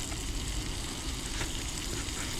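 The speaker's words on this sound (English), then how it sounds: "I might scrape that seasoning off, because that looks good" Steady loud sizzling from a small pan on a camp stove, with a faint scrape of a spatula against the pan partway through, continuous and close.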